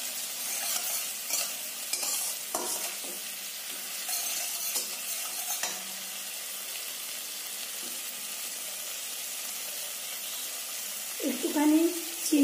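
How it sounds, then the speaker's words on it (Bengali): Spice masala for green banana kofta being stirred and fried in a pan, a steady close sizzle with repeated scraping strokes throughout, growing louder and busier near the end. "মশলাটা ভাজা হয়ে গেছে,"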